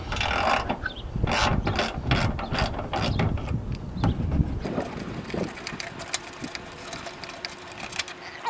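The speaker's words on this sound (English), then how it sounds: "And then we're gonna take off these upper bolts here." A ratchet turns loose the 13 mm upper bolts during electric fan replacement on a 2003 Dodge 2500, with rapid close clicking bursts that fade into lighter, scattered metallic taps.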